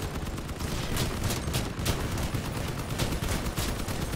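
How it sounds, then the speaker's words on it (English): Light machine guns mounted on a vehicle fire in rapid, sustained bursts in the vehicle combat game Crossout, dense overlapping gunfire rattling steadily throughout at moderate volume. "We got light machine guns on the top of this boy, and we are doing some work."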